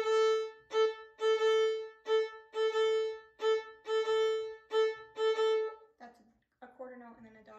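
A bowed string instrument plays a repeated dotted eighth plus sixteenth rhythm on one pitch, giving a long-short bouncing pattern about ten times, then a brief quieter passage at the end.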